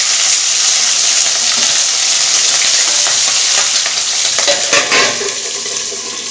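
Green chillies fry with cumin in hot oil in a kadai, giving a loud, steady, close sizzle with bursts of spattering that carries on without a break.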